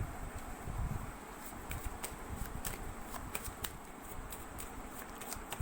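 Tarot cards being shuffled, a steady papery riffling and rustle running continuously at low volume with small crisp flicks throughout, no voices.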